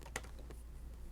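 Soft, quiet keystrokes on a computer keyboard, a few light taps spread over about a second against a steady low background hum.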